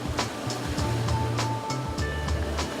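Atlantic Ocean surf at the shore near Halifax, a steady wash of breaking waves close by with repeated sharp splashes and a low rumbling undertone, no voices.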